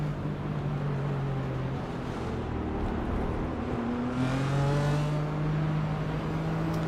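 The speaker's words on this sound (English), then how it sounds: "So the car's just making their way around." GT4 race cars in the iRacing sim circulate behind the pace car at Donington, a steady engine drone with rising and falling revs as the pack rolls past, loud and continuous with no talk.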